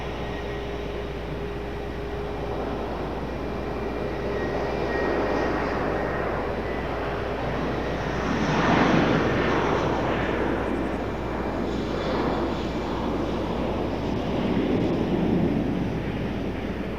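An Avelo Airlines plane arrives on runway 5 right at night at Raleigh-Durham International, a distant jet rumble that swells and fades over steady wind noise. No one speaks.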